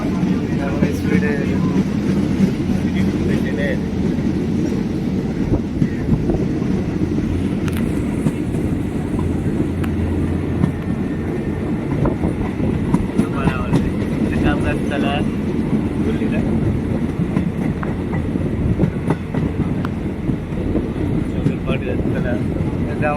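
A moving passenger train nearing a station, giving a continuous low rumble and rattle of wheels and carriages that lasts the whole stretch, with occasional clacks and brief voices inside the coach.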